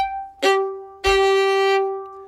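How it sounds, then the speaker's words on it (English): Two heavy bowed fiddle strokes sound across two strings together, a short scratchy accent followed by a longer, rich sustained double-stop, loud and close. "we're going to do a heavy down bow"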